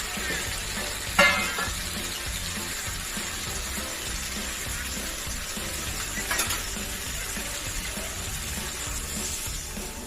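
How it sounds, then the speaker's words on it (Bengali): Water poured into a hot pan of hilsa fish curry gives a sharp burst of hiss near the start, then a steady loud sizzle and bubbling carries on, with a second brief flare later. "এবারে জল ঢেলে দেবো।"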